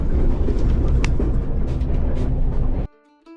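Loud rumbling and rattling of a first-class train rolling along the tracks from Colombo to Kandy in Sri Lanka, steady and close, ending abruptly near the end.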